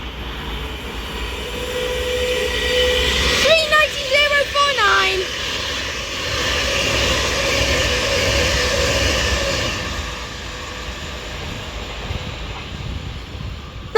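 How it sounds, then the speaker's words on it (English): An Avanti West Coast Class 390 Pendolino passes through the fast line at Crewe, a sustained rushing rumble with a brief horn-like tonal burst early on, moderately loud and fading away. "That's Avanti West Coast Class 390 Prideolino passes through the fast track at Crewe"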